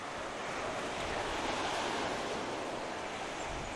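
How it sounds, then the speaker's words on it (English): Steady broadband rush of ocean surf along a Tasmanian shore in the evening, waves washing continuously with some wind noise on the microphone, fairly loud and without any voices. "The ocean seems to be calming a little bit as the evening approaches"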